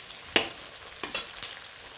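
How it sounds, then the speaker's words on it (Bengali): Sliced onions fry in oil in a pan for chicken kosha, with a steady sizzle and a few sharper crackles and stirring scrapes, close and unaccompanied by talk. "পেঁয়াজটা ভাজা ভাজা হবে, তারপর আমি লঙ্কাটা দেবো।"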